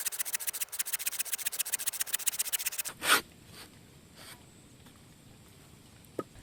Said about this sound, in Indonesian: kalau saya gergaji menggunakan mata gergaji Bahco kembali, ini tidak ada kendala